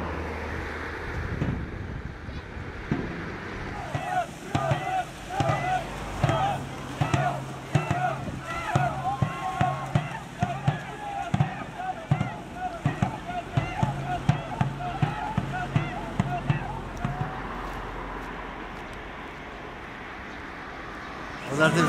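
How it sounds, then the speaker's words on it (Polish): Rhythmic paddle strokes and splashing during a dragon boat race on a river, with drumming-like beats and distant crowd noise carried on wind for most of the stretch. "rozpoczął się właśnie wyścig smoczych łodzi"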